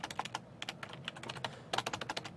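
Rapid keystrokes on a computer keyboard, tapped in bursts with a brief pause in the middle, close and moderately loud, no voices.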